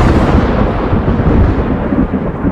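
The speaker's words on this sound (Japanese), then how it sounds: "ゲームの雷ってうるさいから嫌い。" Loud, continuous rumble of thunder in the horror video game Sleep Paralysis, a dense roaring crash that fills the whole stretch without breaks.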